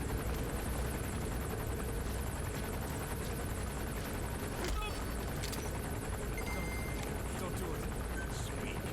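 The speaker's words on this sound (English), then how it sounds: "Wait on the chopper to do its thing. This chopper really sucks at its job" Helicopter hovering in the video game Metal Gear Solid V: The Phantom Pain, a faint, steady rotor rumble and hiss running throughout, with low voices in the background.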